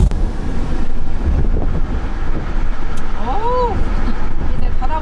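Steady, loud wind roar buffets through an open window of a 2025 Volkswagen ID5 cruising at 80 km/h, a continuous broadband rush with a brief tonal squeal partway through.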